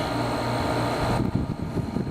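Window air conditioners, a Sharp 10500 and an Emerson, running together indoors with a steady whirring fan and compressor hum and a faint tonal whine, close and constant with slight rattling toward the end.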